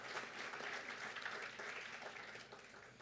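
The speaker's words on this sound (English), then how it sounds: "You can clap for yourselves." Members of a public health institutes' annual meeting clap for themselves in an opening session, producing a steady, fairly faint wash of applause that holds evenly and tapers slightly at the end.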